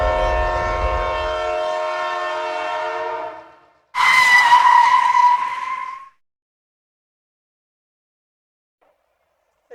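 A cartoon train pulls into a station: a loud, sustained horn with a rumble underneath fades out, then a second bright whistle blast sounds for about two seconds before silence.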